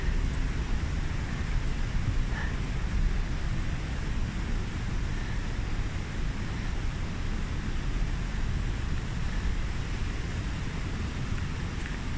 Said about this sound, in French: Petite succession de cascades.